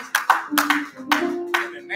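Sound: congregation hand clapping in praise

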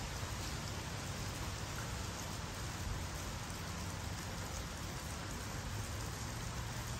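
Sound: light misty rain falling

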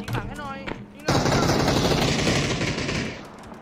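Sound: gunfire from the video game PUBG

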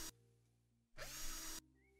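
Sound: drill sound assembling air conditioner in video game House Flipper

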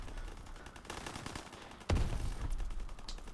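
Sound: gunfire in the video game Prop Hunt WWII

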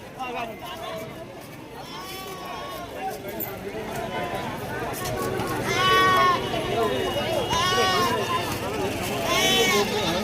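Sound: goats bleating at a livestock market

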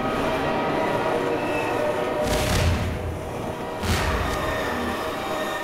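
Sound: train horn in Half-Life 2: Dangerous World video game

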